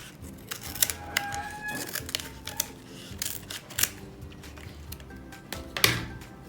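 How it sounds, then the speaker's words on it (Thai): Scissors snip the overhanging ends of pandan leaves on a handmade krathong, giving a series of sharp, close, irregular clicks and cuts at a quiet level. "เล็มปลายที่เลยออกมานะคะ"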